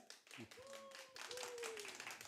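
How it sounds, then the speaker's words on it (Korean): Applause from the audience at a church book talk in an arts centre welcomes the main speaker, a pastor. The clapping is fairly faint and uneven, with a tonal sound and a voice over it. "다 같이 큰 박수 부탁드리겠습니다"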